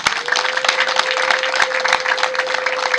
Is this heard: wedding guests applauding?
yes